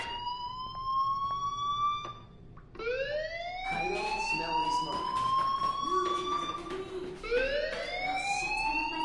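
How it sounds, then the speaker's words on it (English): A fire alarm in the video game Life is Strange wails in repeated rising electronic sweeps, loud and insistent, with a short break before the cycle resumes over faint background clatter. "do you hear that fire alarm? That means you should be outside."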